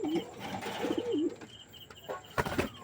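A Maxi pigeon coos near at hand in soft repeated warbling phrases, followed by a few brief rustles or flaps.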